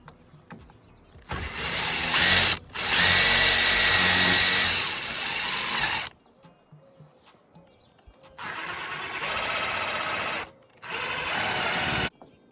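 Power drill driving screws during a camper van build, with several bursts of a whirring motor, each a few seconds long and separated by short pauses. The drill is close and loud, and no one talks.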